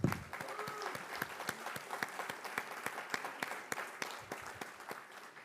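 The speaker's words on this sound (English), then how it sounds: "So please give Mayor Pat Burns a big round of applause" Audience applause for Mayor Pat Burns at a State of the City mayor's breakfast, steady clapping from a room crowd with distinct individual claps standing out, moderately loud and sustained throughout.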